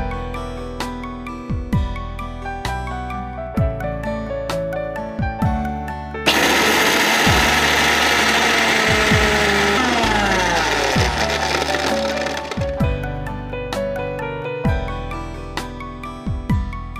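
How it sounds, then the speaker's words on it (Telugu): Mixie grinding cashews, ginger pieces, nutmeg powder and peanuts dry, a loud steady whirring grind of about six seconds set between stretches of rhythmic background music. "ఇవన్నీ మనం డ్రైగా మిక్సీ పౌడర్ చేసుకోవాలి"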